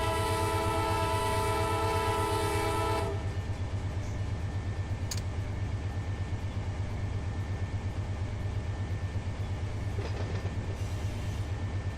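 Freight train in Run 8 Train Simulator: a loud, sustained multi-tone horn blast for about three seconds, then the steady low rumble and drone of the rolling train continuing alone.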